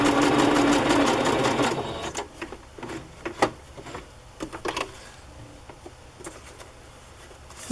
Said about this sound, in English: I'm going to do straight stitch and do messy stitching.